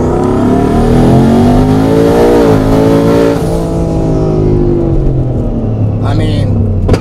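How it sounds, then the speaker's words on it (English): A Ford F150 with a twin turbo kit in four-wheel drive accelerates hard at full throttle, its engine roaring loudly and rising in pitch before easing off, while someone talks over the noise. "Now I'm just going to floor it."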